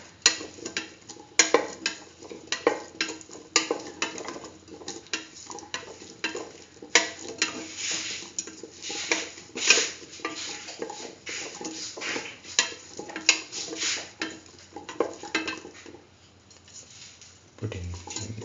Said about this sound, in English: Mix the chayote pieces with the rest of the ingredients.